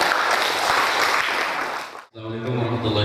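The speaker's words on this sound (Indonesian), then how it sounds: "Terima kasih tepuk tangan ya" Workshop audience at a Facebook marketing training event in Serang claps in a dense burst of applause for about two seconds, then a voice begins speaking close to the microphone.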